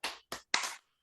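Three sharp, broadband bursts from a classroom rhythmic clapping chant called 'tepuk fokus', led by a teacher with students. The third burst rings longest, and the whole pattern lasts about one second with no voices.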